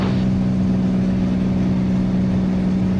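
A Beechcraft Bonanza's piston engine holds a steady, loud drone as power comes up to cruise climb on a missed approach, with a strong constant hum throughout and no speech.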